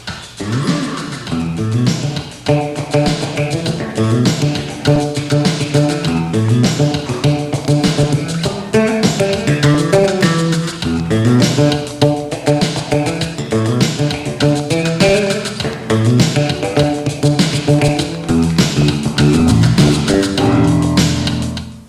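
A fingered electric bass plays a busy, syncopated groove, steady and full for the whole stretch with no talking over it.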